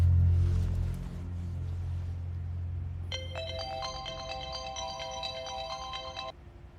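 A phone ringtone plays a steady repeating electronic melody for several seconds, starting after a low rumble and fading out at the end.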